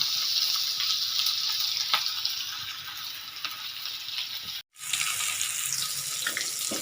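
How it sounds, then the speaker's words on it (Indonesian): Shallots, garlic and chili frying in a pan for fried jengkol with sweet soy sauce, a steady broadband sizzle with faint stirring scrapes, briefly cutting out near the end, with no talk. "bawang merah, bawang putih, cabai, lalu kita goreng sampai matang"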